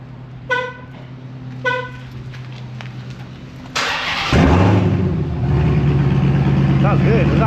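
A widebody Dodge Hellcat with a new exhaust cranks after two short beeps, then its engine catches with a loud burst and settles into a deep, rumbling idle close by, alone without talk.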